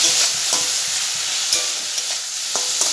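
Vegetables for chow mein fry in a hot pan, a loud continuous sizzle broken by several sharp scraping clicks of stirring, close and with no voices.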